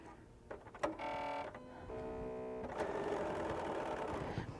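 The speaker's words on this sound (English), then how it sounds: "I'm just going to sew a line of stitching here" A BERNINA sewing machine stitches a line through plaid fabric in short bursts, its motor humming with rapid needle clatter, stopping and restarting, close and clear with no talking.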